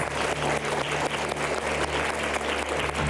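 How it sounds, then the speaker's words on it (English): Cheerleader finalists at the squad tryouts give themselves a round of applause, dense and steady clapping at close range that fills the whole stretch. "So give yourselves a round of applause."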